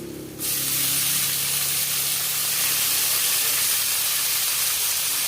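Spice paste hits hot oil with fried ginger, chilli and chopped onion in a frying pan, bursting into a loud, sudden, continuous hissing sizzle that holds steady, close and alone.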